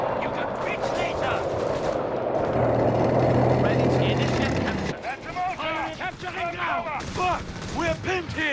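Heavy machine gun fire in a Company of Heroes 3 Wehrmacht multiplayer battle, rapid bursts crackling amid explosions and battlefield din, with soldiers shouting over the shooting.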